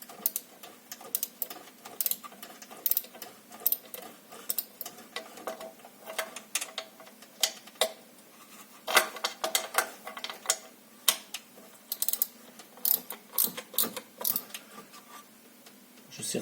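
Screws being tightened on the thermostat housing of a BMW Z4 E85, a string of close, sharp mechanical clicks and ratcheting ticks in irregular bursts, with no talk.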